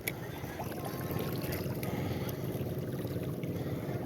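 Steady low rumble of boat engines on open water, continuous and moderately loud, with wind and water noise throughout.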